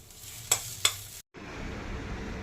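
Bottle gourd peel and shrimp are stirred in a wok, a spatula scraping twice against the pan over a steady sizzle of frying, with a brief pause before the sizzling resumes.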